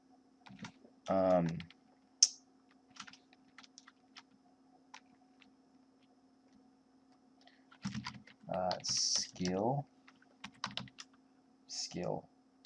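Light, quick clicks of someone typing a folder name on a computer keyboard, scattered across the middle of the clip between stretches of someone talking close by.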